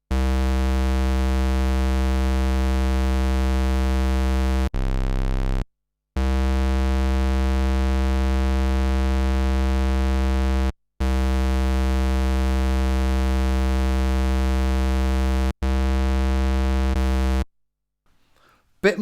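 Buzzy synthesizer drones from a Behringer K2 and a Korg MS20, sustained harmonic-rich tones held steadily in several long blocks separated by short breaks, loud and alone.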